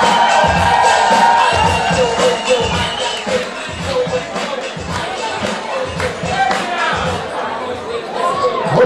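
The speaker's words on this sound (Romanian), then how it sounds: "Vă rog frumos, stimați colegi, să aplaudați foarte tare." An audience at a student freshmen's ball cheers and claps in a loud, dense crowd roar, with shouts and chatter mixed through a continuous wash of applause.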